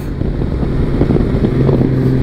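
A Honda Valkyrie motorcycle engine hums and rises in pitch as it revs, a close, steady mechanical drone with no talking.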